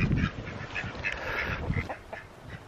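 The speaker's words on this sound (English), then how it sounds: "What do you think of the sound of the chickens?" Several chickens cluck and squawk in quick overlapping calls, close by, with a steady windy rush underneath from a cold, snowy storm with 55 mph winds.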